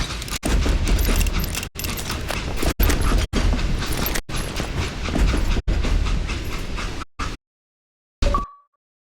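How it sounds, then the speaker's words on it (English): Train rolling on rails in the Call of Juarez Gunslinger western video game, loud rhythmic clattering and rumbling broken by several sharp cuts, ending in abrupt silence and a brief clank. "It was then that Jesse detached the express car from the rest of the damn train."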